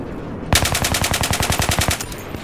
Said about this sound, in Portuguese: Olha, estou a levar tiros.